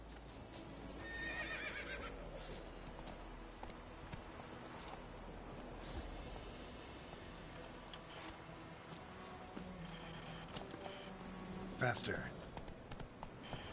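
Geralt's horse Roach in The Witcher 3 whinnies and clip-clops at a trot, hoofbeats steady under game music with a louder neigh near the end, while someone talks over it.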